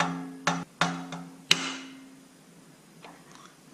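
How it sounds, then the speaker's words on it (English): A hammer gently taps a valve down into a Ford flathead V8 cylinder head, giving four light metallic ticks at uneven intervals, each followed by a short ring, close up in a quiet workshop. "you get a hammer and very gently tap the valve there to get it to go back down in"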